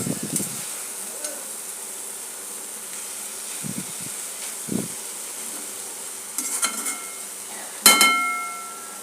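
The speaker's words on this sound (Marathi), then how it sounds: "फास्ट गॅसवरती आपल्याला चांगली परतून घ्यायची" Dill (shepu) greens with moong dal stir-fried on high flame give a soft steady sizzle and hiss, with a few brief scraping stirs and a sharper clatter near the end.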